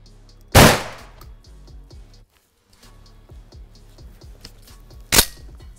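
Two loud, sharp 12 gauge shotgun slug blasts fired into a wall, the first near the start and the second about four and a half seconds later, with steady clattering mechanical noise in between.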